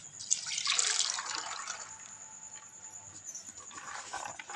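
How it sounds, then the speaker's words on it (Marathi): Water draining and dripping off soaked chana dal, a faint trickle with scattered drips that is strongest early on, then tapers off. "हे आता मी नितळून घेणार आहे"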